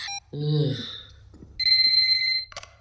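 Telephone ringtone in a Hindi film scene, sounding twice with steady electronic tones, loud and close, with a voice speaking between the rings.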